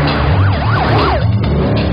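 An ambulance siren wails in a rising and falling pattern over nearby traffic noise, loud and close, with a low engine drone underneath and no talking.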